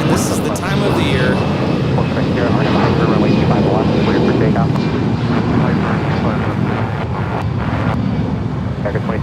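Aircraft engines roar loudly and continuously at Los Angeles International Airport during a plane-spotting event, with people talking throughout over the wind-buffeted outdoor noise.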